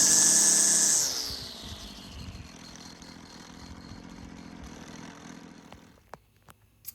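A Wheel Horse lawn tractor's engine gives a loud, high whine that drops after a second into a lower, steady running drone, fading toward the end before a few sharp clicks.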